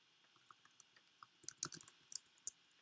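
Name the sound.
computer keyboard typing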